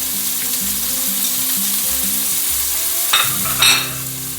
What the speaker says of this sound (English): I'll just fry all this up until the ground beef is cooked through and the onions are al dente